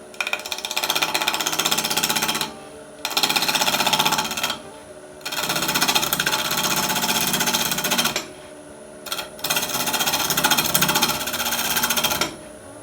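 A wood lathe spins a glue block as a scraping tool rides against it, giving loud rough buzzing bursts of a few seconds each, separated by short pauses when the tool lifts away.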